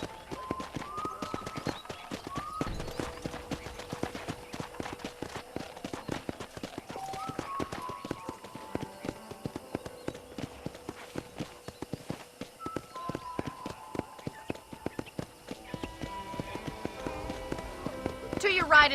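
Horse hooves clip-clop steadily in the Red Dead Redemption video game, a ranch ride with rapid rhythmic footfalls throughout, carrying on under the faint game soundtrack.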